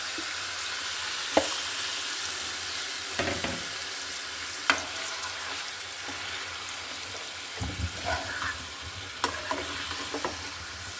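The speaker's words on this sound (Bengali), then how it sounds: "মাংসটা আমি পাঁচ মিনিট মেখে রেখেছিলাম সেটা দিয়ে দিচ্ছি আলতো করে দিতে হবে" Marinated chicken fries in hot oil in a pan, a continuous crackling sizzle with occasional sharp pops and soft stirring scrapes, close and steady with no voices.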